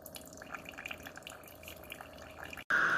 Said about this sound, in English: after 2 minutes it starts brewing the coffee